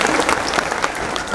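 A crowd claps steadily throughout at a Lodhi community gathering for the Avanti Bai Lodhi Jayanti, honoring a guest on stage, with the dense, continuous applause filling the hall.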